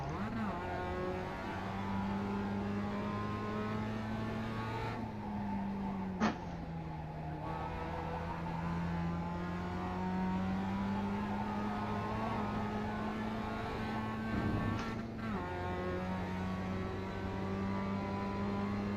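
Mazda MX-5 Cup race car engines drone at high revs in iRacing at Lime Rock Park, a steady close engine tone with two brief throttle lifts and downshifts, no speech.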